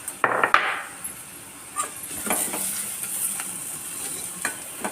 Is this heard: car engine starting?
no